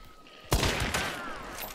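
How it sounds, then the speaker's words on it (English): A single loud Mosin rifle shot in the video game Hunt: Showdown cracks sharply out of quiet, followed by a long, reverberant rolling tail. "A Mosin shot to the head proves him wrong about that one."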